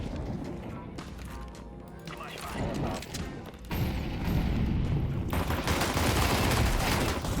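Rapid bursts of Counter-Strike 2 gunfire crackle and pop under ongoing voices, growing denser and louder toward the end.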